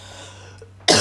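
A single short cough from a person with a cold and congestion, sudden and close at the end after near silence with a faint low hum.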